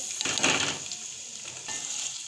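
Chopped onions sizzle in hot oil in a pot, a steady frying hiss that swells early on with a few soft utensil clinks, then settles into a quieter even crackle.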